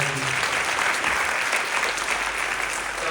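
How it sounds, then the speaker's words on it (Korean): A church congregation at a Sunday service applauds with a steady, loud wash of clapping that lasts throughout. "박수를 보내주시고 고맙습니다"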